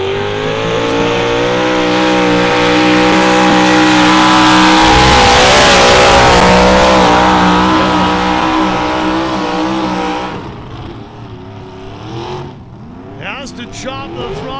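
A 1,250-horsepower drag truck pulls a sled at the NHRDA 2024 Big Sky Truck Fest. Its engine roars loud and sustained for about ten seconds, then cuts off and leaves quieter background sound with commentary.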